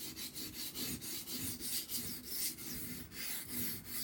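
Kitchen knife drawn repeatedly across a whetstone, a steady rhythmic rasping scrape of roughly a dozen strokes, close and fairly quiet, with no voices.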